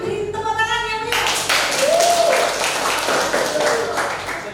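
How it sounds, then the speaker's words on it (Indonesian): Classroom applause from a group of students after a class presentation, lively clapping that comes in after a short stretch of speech and carries on fairly loud and close, with voices mixed in. "sekali lagi beri tepuk tangan yang meriah"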